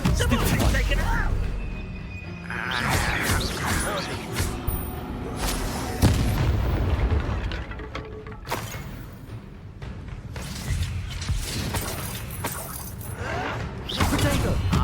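Spell-combat blasts from Bombarda and Confringo explosion spells in a Hogwarts Legacy-style wizard duel, a dense, continuous barrage of booms, thuds and crackling impacts with game voices shouting throughout.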